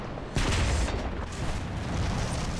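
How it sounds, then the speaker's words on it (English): Tank gunfire in the video game War Thunder, a single sharp, loud blast that rings out and then fades into a steady rumbling battle ambience. "That was terrible shooting on my part."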